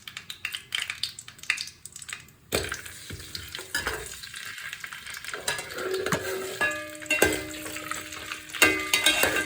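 Steady sizzling of cashews and raisins frying in ghee, with a spoon stirring and scraping against the pan and occasional clinks of utensils.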